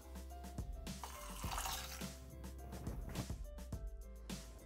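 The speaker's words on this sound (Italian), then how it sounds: "Aggiungere l'acqua" Water poured into a Thermomix TM6 bowl while cooking fresh fava bean pasta, a soft running splash under faint clinks and a low machine hum, quiet and close.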